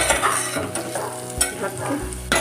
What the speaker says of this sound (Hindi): अब इसको हम ऐसे चला के दो मिनट तीन मिनट तक पकाएंगे मटर को